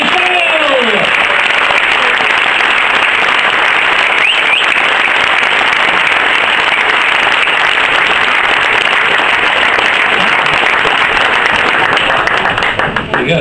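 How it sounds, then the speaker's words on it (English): A crowd at a club night out gives a big, sustained round of applause for a club legend, loud dense clapping and cheering filling the room from start to finish. "Would you give a big round of applause for that?"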